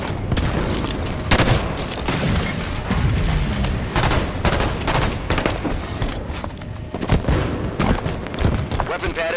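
Heavy enemy gunfire in a Halo 5 Big Team Battle Assault match on Viking: dense, rapid bursts and booming shots crackle nonstop and loud for the whole stretch, with voices faintly underneath.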